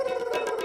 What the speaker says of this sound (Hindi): ऐसे खट्टे डकार आ रहे